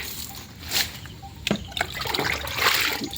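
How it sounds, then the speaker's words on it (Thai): Fermented liquid made from leftover durian is splashed by hand onto pruned garden debris, giving a few short, wet sloshing bursts and trickles at close range with no talking. "เนี่ยน้ำหมัก เหลือทุเรียน สาดได้เลยเนี่ย"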